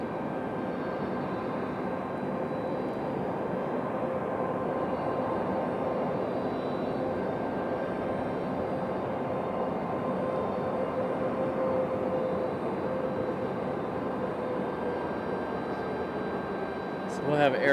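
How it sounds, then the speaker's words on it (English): A CRJ regional jet touches down at Raleigh-Durham, a steady, moderate engine rumble and rushing whine lasting throughout at a middle distance, with a faint voice near the end. "Nice touchdown for our CRJ."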